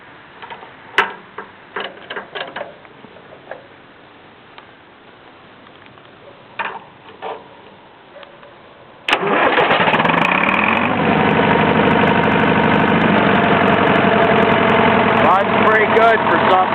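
A David Brown 990 tractor engine cranks and catches about halfway through, then settles into a loud, steady, close idle after a stretch of quiet with scattered ticks and knocks; voices are heard before it starts.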